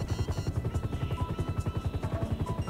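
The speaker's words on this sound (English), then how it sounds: "nobody notices the helicopter hovering right over him" A helicopter hovers overhead in GTA V, its rotor chopping in a fast, even pulsing beat that stays loud and close throughout with no talking.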